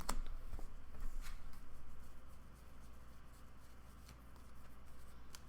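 Trading cards from a Branded Predaplant deck riffle and slide together as they are shuffled back in, a soft, close papery rustle that fades to quieter handling, with no talking.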